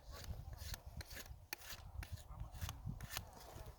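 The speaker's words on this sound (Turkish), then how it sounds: "Bu şekilde bıçağımızla perdahlıyoruz." A knife scrapes along walnut tree bark in quick repeated strokes, smoothing a grafting cut, each rasping pass clear and close against a quiet background.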